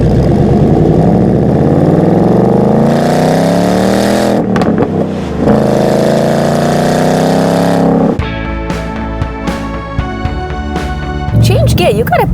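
A Ford Mustang Bullitt's engine runs loud and close, rising in pitch through a long rev, dropping briefly at a gear change, then climbing again before settling into a steady, harmonic-rich drone.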